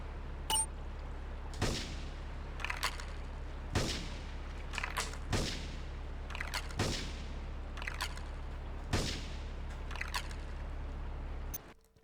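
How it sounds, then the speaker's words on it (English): Sniper rifle shots in Grand Theft Auto III, about six sharp, evenly spaced cracks over a steady low hum, each followed by a short decay, with no voices. "What if I switch to the sniper and just kill him?"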